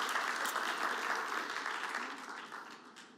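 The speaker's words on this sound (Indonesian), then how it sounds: "Kita beri tepuk tangan." Church congregation applauding to welcome a guest speaker named Grace, a steady wash of clapping that starts full and slowly tapers over a few seconds, heard alone without talk.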